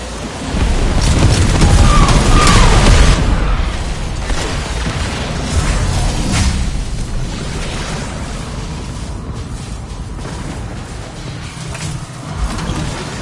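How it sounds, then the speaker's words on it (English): A cruise ship reactor detonates in the Warframe Railjack video game, giving a loud rumbling blast that swells over the first few seconds, then a long crackling, fading roar with smaller rumbles, no speech. "Cruise ship reactor has detonated."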